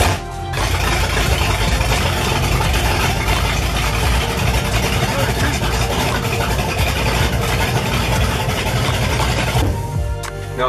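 A supercharged LT1 V8 in a Buick Roadmaster after final assembly and a new computer, idling loud and steady and close up for about ten seconds, with no talk over it.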